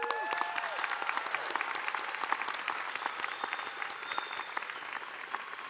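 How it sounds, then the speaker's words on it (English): A commencement crowd at Clark College applauds steadily for a group of syncopated drummers, with sharp individual claps standing out against a sustained, moderately distant roar of clapping. "Please join me in another round of applause for the last regiment of syncopated drummers."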